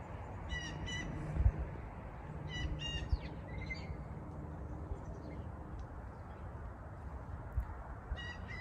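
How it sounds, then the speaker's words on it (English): A chickadee outdoors in early spring repeats short, buzzy calls in small clusters at moderate distance, over a steady rumble of wind and background noise. "Chickadee. Hi, chickadee."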